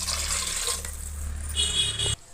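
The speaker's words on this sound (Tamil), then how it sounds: "தண்ணி ஊற்றினா கரெக்டாக இருக்கும்." Water pours steadily into a cooking pot while making mushroom biryani, a close, continuous splashing rush that stops abruptly near the end, leaving quiet.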